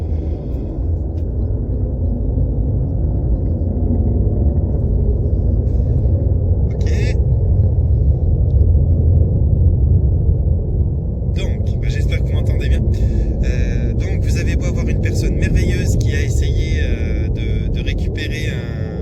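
An airplane passing overhead outdoors, a loud continuous low rumble that swells and holds throughout, with a person talking over it during the second half.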